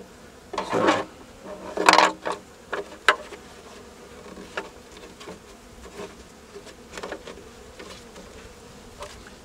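Honey bees around a hive being fed sugar water: close, buzzing bursts that flare loudly several times early on, then settle into a softer scattered drone with faint clicks.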